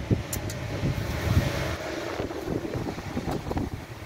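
Strong typhoon wind roars and buffets steadily outdoors, a dense rushing noise with low gusty thumps against the microphone throughout.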